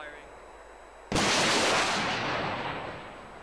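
An AT4 anti-tank rocket launcher fires on a training range in a single sudden, loud blast that rolls off into a long fading rumble.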